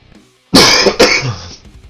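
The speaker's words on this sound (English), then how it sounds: "Sorry for the cough." A single sharp cough, followed quickly by a second rougher burst and a short throat-clearing tail, close and loud against a quiet background.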